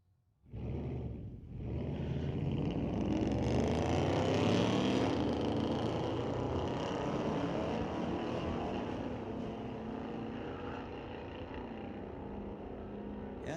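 A Dodge and a Mustang launch in a street-legal drag race at Mission Raceway, with engines roaring up suddenly from quiet and sustaining a loud rising, then slowly fading, rumble as the cars pull away down the strip.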